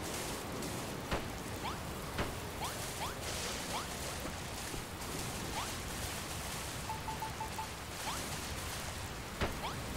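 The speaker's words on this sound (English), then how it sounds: "Oh, it's starting to rain." Steady rain falls in Dragon Quest Builders 2, a continuous hiss of drops with scattered sharper splashes and occasional soft whooshes, filling the scene evenly with no talking.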